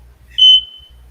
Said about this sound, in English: Oh, I hear an alarm.